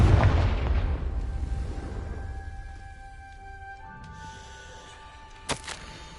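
A Confringo spell detonates in a Harry Potter video game, a heavy booming blast at the start that rumbles and fades over several seconds, followed by faint lingering tones and a small sharp crack near the end.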